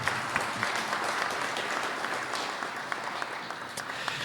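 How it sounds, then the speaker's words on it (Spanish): Steady applause at a territorial dialogue event in Tarija on hydrocarbons and energy, greeting a candidate; a moderate, even wash of clapping with no speech over it. "El aplauso también para Jaime Balanza Márquez."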